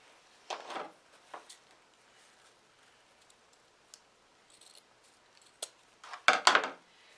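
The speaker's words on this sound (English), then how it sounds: "And these aren't my good scissors." Ordinary household scissors cut ribbon and yarn for a yarn-wrapped candy cane craft, giving a few scattered, close snips with quiet pauses between them and a quick cluster of crisp cuts near the end.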